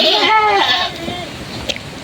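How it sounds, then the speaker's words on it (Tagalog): Goats on a goat farm bleat loudly and close by with a wavering cry at the start, followed by quieter farmyard noise and soft rustling with a small knock near the end. "Ito po yung mga alaga nilang mga kambing dito."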